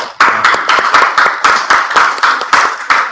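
A group of people clapping together after a club membership vote passes at an anniversary party, a steady run of sharp, closely spaced claps fairly near, with no talk.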